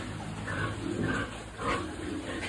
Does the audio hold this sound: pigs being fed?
yes